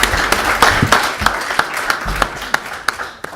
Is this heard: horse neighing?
no